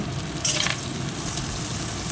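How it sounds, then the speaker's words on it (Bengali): Prawns fry in hot oil with a loud, steady sizzle and crackle, with a brief burst of spatter near the start. "চিংড়ি মাছটা ভেজে নিচ্ছি"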